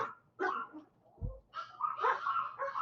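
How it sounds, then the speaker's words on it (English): Several dogs bark and yip in short excited bursts, mid-distance, with a brief low thump among the barks and no speech over them. "Let the dogs freak out."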